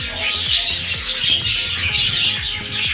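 Parakeets squawk and chirp in a busy, continuous flock chatter, close and moderately loud, with overlapping calls and no voices.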